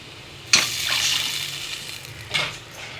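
Three tumblers of water splash into a cooking pot in a sudden pour, followed by a second shorter splash, close by in a quiet kitchen.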